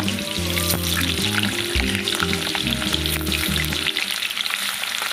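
Chicken kofta pakoras fry in hot oil with a loud, continuous close bubbling sizzle that holds steady throughout.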